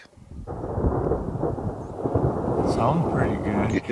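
Thunder rolls from an approaching storm to the north as a deep, sustained rumble that builds and swells, moderately distant, with faint rustling and the edge of a voice at the end.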